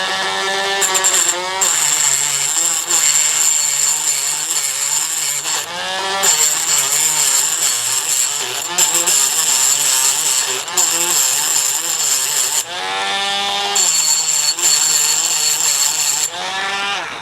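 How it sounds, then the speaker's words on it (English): Dremel rotary tool grinding down a broken-off set screw flush on a door lock, a loud continuous high whine that cuts out briefly several times before resuming, with no talking. "I'm going to use this Dremel to make this surface flat."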